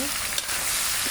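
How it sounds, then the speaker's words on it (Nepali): Food for a sweet and sour mango pickle frying in a pan, a dense close sizzle holding steady for about a second, with one faint tap partway through. "यसरी भुट्ने।"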